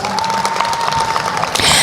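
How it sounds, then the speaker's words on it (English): A brief burst of applause and cheering rises from the crowd at the Aldine FFA horse show for two exhibitors, a dense, close clatter of clapping that swells near the end. "Will everybody please give our two exhibitors a round of applause?"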